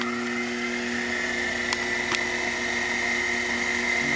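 A Sherline lathe cuts a small piece of aluminum in a clockmaker's shop, giving a steady high-pitched whine over a constant motor hum, close and continuous with a couple of faint brief ticks and no talking.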